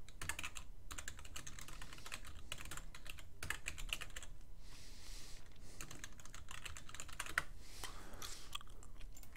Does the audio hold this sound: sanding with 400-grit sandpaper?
no